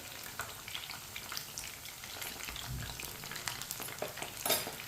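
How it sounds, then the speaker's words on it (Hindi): Chicken frying in a pan, a steady, dense sizzle with crackling pops running throughout, fairly close and even in loudness, with no voices. "आप देख सकते हैं चिकन हमारा अच्छी तरह फ्राई हो चुका है।"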